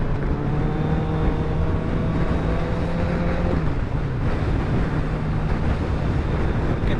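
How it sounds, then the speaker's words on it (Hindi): A Honda CBR 1000RR motorcycle engine drones steadily while riding, its pitch holding then dropping partway through, mixed with rushing wind noise; no voices. "बाइक का अगर थ्रॉटल, क्या बात है, मतलब बिल्कुल प्यारी आवाज़"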